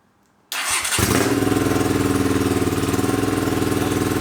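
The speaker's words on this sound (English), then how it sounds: "let's start the engine and just see what we've got." A Honda CX500 motorcycle engine cranks and catches, then settles into a loud, steady, rhythmic idle close by.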